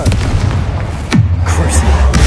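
Confringo blasting spell in Hogwarts Legacy: a loud close explosive boom with a sweeping downward whoosh, then a deep rumbling tail, with a voice shouting spell names.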